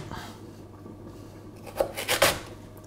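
A knife slices lengthwise through a sweet potato while a creole lamb navarin is prepared in a home kitchen; the cut comes as a few short, close, rasping strokes near the end, after a quieter moment.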